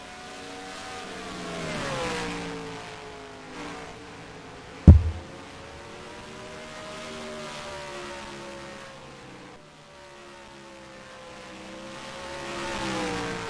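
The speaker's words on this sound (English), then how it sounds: "Letting everyone enjoy the noise at home of the sights and sounds of the Bristol Motor Racetrack here" Race cars lapping the short oval at Bristol Motor Speedway in a Maverick Cup Series race give a continuous engine roar whose pitch sweeps up and down as cars pass. One sharp thump lands midway. No one speaks.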